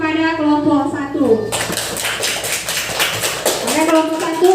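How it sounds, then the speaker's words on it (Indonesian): A classroom group applauds, a burst of many hands clapping for about two seconds, with speech before and after the clapping. "beri tepuk tangan kepada kelompok 1"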